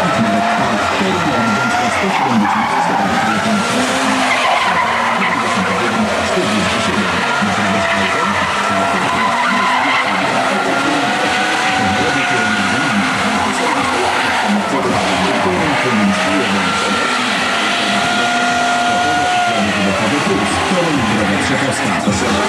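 A BMW E24 628 CSI does a long, continuous burnout at the 2004 BMW meet in Toruń, with loud tire squeal and roaring engine throughout, plus crowd noise and an announcer's voice.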